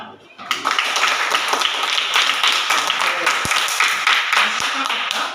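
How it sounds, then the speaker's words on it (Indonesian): Fourth-grade pupils in a classroom clap together after an ice-breaking activity, a sudden start of rapid, close applause that continues for several seconds with voices underneath. "untuk ice breakingnya kita beri tepuk tangan"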